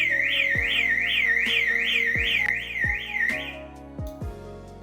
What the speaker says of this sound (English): Can never quite remember how to make the alarms not go off on